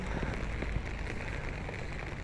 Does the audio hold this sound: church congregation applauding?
no